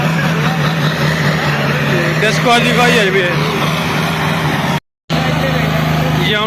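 A tractor with a burst turbo idles loud and steady at a village trolley-pulling contest in Ubha, its deep engine drone running under continuous talk and cutting out briefly near the end.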